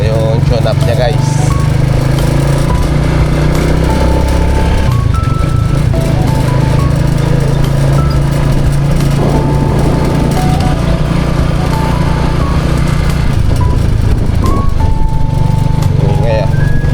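A freshly tuned-up motorcycle engine runs steadily in a loud continuous drone, with traffic and road noise around it and occasional higher tones over the top.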